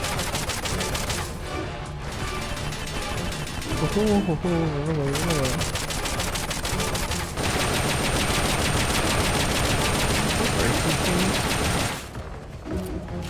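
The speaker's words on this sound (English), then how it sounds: "They're about to commence the requested supporting fire." Rapid supporting gunfire from the video game Metal Gear Solid Peace Walker, a dense, sustained run of repeated shots under a player's excited exclamations, with a steady high tone through the later part.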